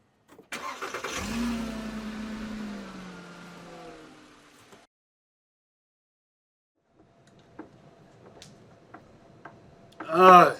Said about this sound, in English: Get in the car, Turbo